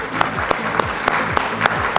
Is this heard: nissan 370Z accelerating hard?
no